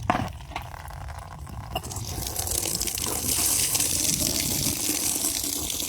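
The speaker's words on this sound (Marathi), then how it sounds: "पाणी सांडायला लागतं." Water gushing and splashing steadily while cow dung bundled in cloth is dunked in a container of water to make jeevamrut slurry, continuous and fairly close, with no talk.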